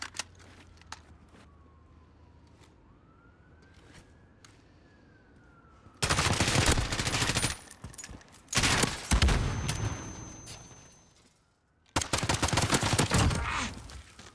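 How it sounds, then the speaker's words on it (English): Bursts of video game gunfire, rapid pistol shots in dense volleys, break out after a quiet stretch and return in a second burst near the end, loud and close. "Dude, Diamond and I are shooting on these dudes with a pistol."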